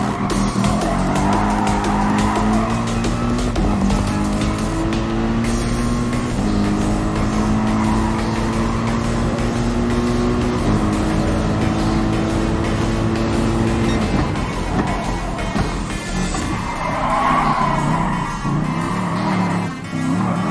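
Race cars in the Gran Turismo Sport video game roar around a track on the final lap. A loud, close engine whine rises and falls through the gears, with tire squeal through the corners and no talking.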